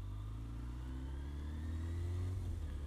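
A Honda RF900R motorcycle engine idles steadily while warming up, a close, continuous low rumble with a slight rise in revs toward the end and no talking.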